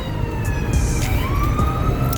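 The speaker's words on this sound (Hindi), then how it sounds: "एम्बुलेंस।" An ambulance siren wails with rising and falling tones over steady traffic rumble, loud and continuous across the short stretch.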